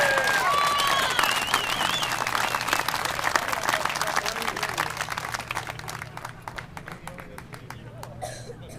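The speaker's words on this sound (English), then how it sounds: "I want to shout out a clap to those veterans serving their country." A rally crowd applauds veterans, starting with loud, dense clapping and cheers that gradually thin out and fade into scattered claps over several seconds.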